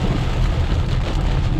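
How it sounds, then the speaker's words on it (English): Deep, rolling thunder from a storm rumbles low and continuous over heavy rain, heard from inside a 2021 Polestar 2 on the road, with no voices. "Hear that left thunder?"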